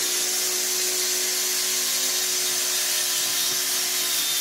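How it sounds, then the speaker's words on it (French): A Titan power saw cuts into a wooden table, giving a continuous high whine and rasp with a steady motor hum beneath, loud and unbroken. "Ce que je vais faire, c'est que je vais le tester moi-même. Et je vais découper ma table."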